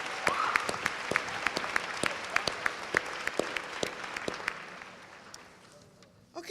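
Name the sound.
audience applause for panel speakers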